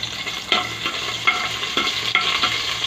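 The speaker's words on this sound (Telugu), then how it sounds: "రెండు పచ్చిమిర్చి అండ్ ఆనియన్స్ మిగిలిన ఆనియన్స్ వేసాము ఇది కాస్త బాగా ఫ్రై చేయాలి" Onions and green chilies fry in oil for a village-style vegetable pulao, a steady close sizzle broken by a few spoon stirs and scrapes against the pan, with no voices.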